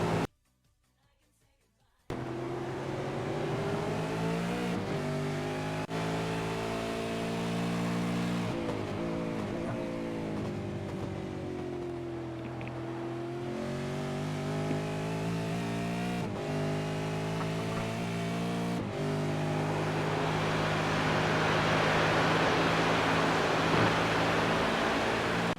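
A race car in iRacing holds a steady engine drone through a fast lap, with shifts and revving that swell and dip and a louder, rougher roar toward the end, after a short quiet start.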